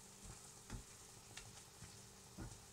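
Peppers frying in a pan with a teaspoon of paprika as they are stirred around: a steady soft sizzle with a few louder scraping stir strokes, close and without talk.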